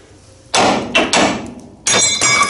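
Hammer blows on a leaf spring fixing bracket of a 1954 Chevrolet wagon being removed for air suspension, three or four loud, sharp metallic strikes at irregular intervals, close by with no talk.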